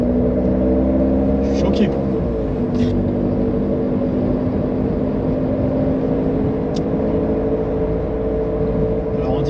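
A 1998 Renault Mégane Coupé 1.9 dTi diesel drones steadily from inside the cabin while driving, a loud continuous low engine hum that runs under someone talking throughout.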